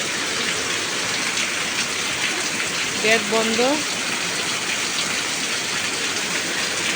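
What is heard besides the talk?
rain on a tin shed roof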